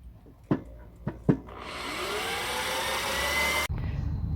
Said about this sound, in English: we are basically drilling the rivets out of the old gasket so we can reuse the gasket